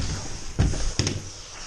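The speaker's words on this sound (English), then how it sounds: "Knock, knock." Two dull knocks on the door of a vacant property, spaced a fraction of a second apart and fairly close, over a steady background hum.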